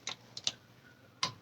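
A torque wrench on a 2020 Harley-Davidson Sport Glide clicks at its set torque, heard as a few sharp, quiet ticks spread across a short, otherwise hushed moment.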